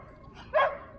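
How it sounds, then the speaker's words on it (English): A standard poodle gives a single short bark midway through, fairly close and clear against quiet outdoor background in Sun Valley, Idaho. "Beautiful standard poodle."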